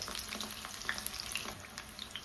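Chicken pakoda bubbles and crackles in hot oil, a close, steady frying hiss with tiny pops and no talking.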